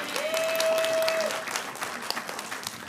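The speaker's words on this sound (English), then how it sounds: "Yeah, let's clap for Caitlin." Audience applause at a talk on shelter-inclusive policies in Canada, a warm burst of clapping that starts full and then thins out into scattered claps near the end.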